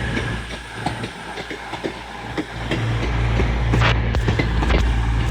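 Class 220 and 221 trains pull out of York station bound for Edinburgh, with a steady rumble and clickety-clack of wheels over rail joints that builds slowly, heard from the platform with no talk.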